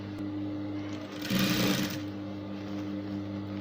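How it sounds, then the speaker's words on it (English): A sewing machine runs in a short burst of rapid stitching while ruffles are pleated onto a blouse, close and fairly quiet, with a steady low hum before and after the whirring run. "So I'll keep sewing, I'll keep pleating on my spirals"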